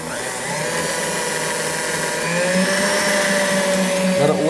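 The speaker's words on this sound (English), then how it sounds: "Let it whisk until it cools down." An electric mixer whisks a warm mixture for a chocolate truffle cake, its motor whine running steady and close, then rising slightly in pitch and loudness toward the end.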